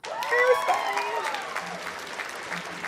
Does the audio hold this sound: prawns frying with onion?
no